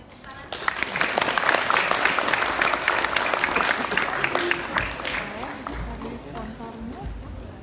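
An audience at a theater performance applauds after a group pose, swelling quickly into steady, crowded clapping that holds and slowly eases, with voices talking underneath toward the end.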